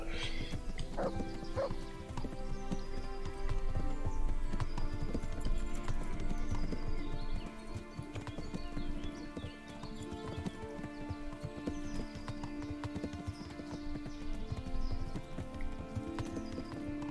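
Steady clip-clop of horse hooves in Kingdom Come: Deliverance, a rapid rhythmic trot over layered music and ambient sound.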